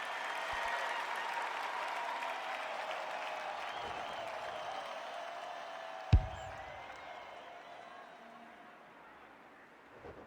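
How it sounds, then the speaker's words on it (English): Virtual stadium crowd in AFL 26 roaring after the first goal of a grand final: a broad, sustained roar that slowly fades, broken by one sharp thump midway. "For the first goal of the grand final. Listen to the roar."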